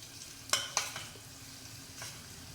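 Water poured into hot tempering (phodni) in a pan after the gas is turned off, giving a few sharp sizzling bursts followed by a quieter crackle as it is stirred.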